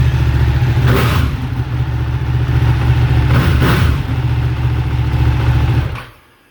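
A 2016 Ducati 1299 Panigale S sport motorcycle with stock exhaust, its engine loud and close as it idles with a deep rumble and is blipped in two sharp revs before cutting off.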